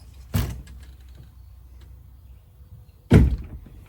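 Screen door being opened gives two distinct, close thumps a few seconds apart, each a short dull knock against a quiet background.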